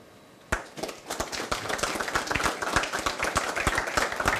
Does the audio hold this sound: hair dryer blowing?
no